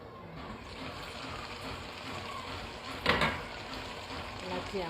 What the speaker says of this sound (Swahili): Natia maji.